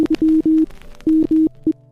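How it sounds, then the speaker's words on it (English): Morse code sent as a marriage proposal: a clean, steady electronic tone keys on and off in short and long beeps, loud and close with no talk. "he proposed via Morse code."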